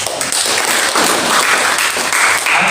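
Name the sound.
applause for God at a prayer meeting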